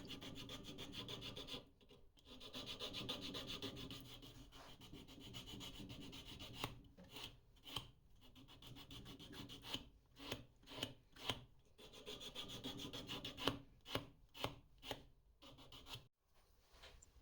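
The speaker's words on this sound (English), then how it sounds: "With a strip of sandpaper, I remove any tear out and roughness the router bit left." A strip of sandpaper is rubbed by hand over a wooden two-piece fishing lure to smooth router tear-out, giving steady scratchy rasping that breaks into a run of short, rhythmic strokes near the end, close and clear with no talking.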